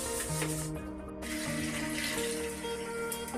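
Water runs steadily from a tap while a toilet and washbasin are being scrubbed clean, a continuous close splashing stream with no talk.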